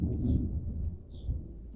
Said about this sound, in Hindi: हमारे तरफ भाई बादल गरज रहा है